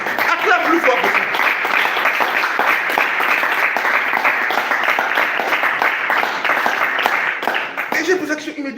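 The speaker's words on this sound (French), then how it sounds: "Acclame plus fort possible." A church congregation applauds loudly and continuously, dense clapping filling the whole stretch close by, with voices and shouts mixed in throughout.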